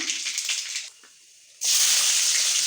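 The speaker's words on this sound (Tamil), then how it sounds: "இப்போ கடுகு பொரிஞ்ச உடனே வெங்காயம் சேர்த்துக்கலாம்" Chopped onions drop into hot oil with popped mustard seeds, giving a sudden loud, sustained sizzle after a brief quieter moment, preceded by softer frying crackle.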